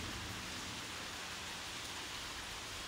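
Steady rain pours at a tunnel in Kanagawa, Japan, a dense even hiss with no breaks, heard alone at a moderate distance.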